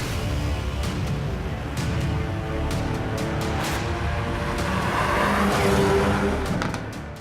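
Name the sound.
Hyundai i30 Fastback N Performance car driving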